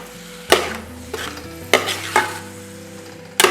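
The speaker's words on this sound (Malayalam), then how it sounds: "അപ്പോൾ നമ്മൾ നല്ലോണം നമ്മുടെ ബീഫ് അരപ്പിനകത്തിട്ട് ഇളക്കുകയാണ്." Beef is stirred into a frying masala paste for a spicy Kerala-style beef curry: a ladle scrapes and clacks against the pan several times over a steady sizzle, close and clear, with no talking.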